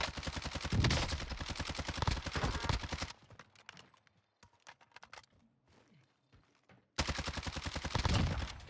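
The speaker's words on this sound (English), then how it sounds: "They're shooting at me." Rapid automatic gunfire from a Call of Duty Warzone match rattles in two dense, loud bursts, broken by a stretch of quieter scattered shots and clicks in between.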